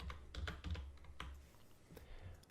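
Keys clack on a computer keyboard as a search is typed into the Shopify App Store, a quick irregular burst of close, fairly quiet keystrokes with no talking.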